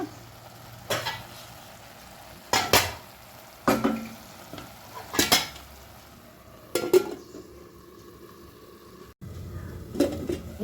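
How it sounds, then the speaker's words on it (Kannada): Leafy greens sauté in a pan on a medium flame, a low background sizzle punctuated by several sharp metallic clanks of a spoon against the pan and a lid being set down, with short quiet gaps between. "ಈಗ ಇದಕ್ಕೆ ಮುಚ್ಚಳ ಇಟ್ಟು ಒಂದು ಐದು ನಿಮಿಷ ಸಣ್ಣ ಮೀಡಿಯಮ್ ಉರಿಯಲ್ಲಿ ಬೇಯಿಸಬೇಕು"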